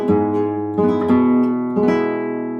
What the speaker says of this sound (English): for each bass note you could do maybe a rolled arpeggio.